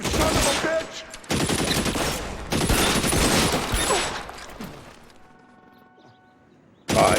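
Loud bursts of rapid gunfire in a detective video game fight, with three dense volleys separated by short gaps, then a quieter lull with a faint ringing tone before another burst starts at the end.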